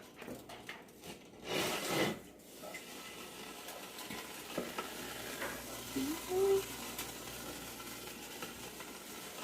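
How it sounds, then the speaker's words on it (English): Vegetable stock gets stirred into a pot with browned golden onions, a soft wet swishing and occasional scrape of a utensil, faint and close, with a few louder rubbing moments. "Now we can add vegetable stock. Stir it properly."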